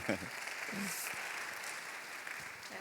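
Church congregation at a young adults' Sunday service applauding to welcome a couple, steady mid-distance clapping filling the room, with a few faint voices underneath.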